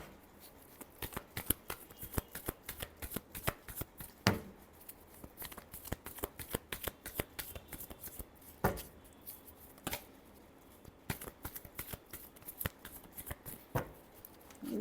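Tarot cards are shuffled by hand in a steady run of crisp riffling flicks and slaps for about fifteen seconds, close and clear, with a few louder snaps, and no talking.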